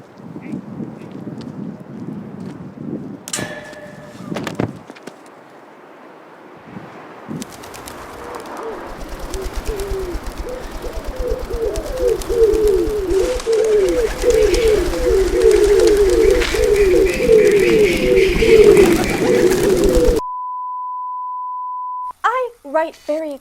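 Pigeons coo in a series of rolling, throaty calls over windy outdoor noise, fairly loud and close, ending with a steady electronic tone and a few more coos.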